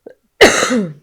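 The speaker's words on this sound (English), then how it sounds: "I might just clear my throat one more time" A person with a bad cough clears their throat once, a loud, close, rasping burst that fades over about half a second, after a brief soft voice at the start.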